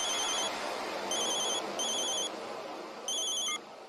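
A telephone rings in a repeating electronic pattern, several bursts of bright tones over a steady background hum.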